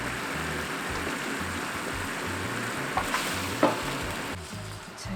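Braising sauce for tofu, made with perilla oil, chili and green onion, bubbles and sizzles steadily in a pan, a close, even hiss with a few light clinks near the end.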